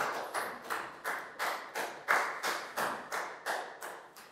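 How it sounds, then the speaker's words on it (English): Year 4 health-lesson class clapping together in a steady, even rhythm, about a dozen sharp claps over a few seconds, close and clear with no talking. "Big round of applause for down"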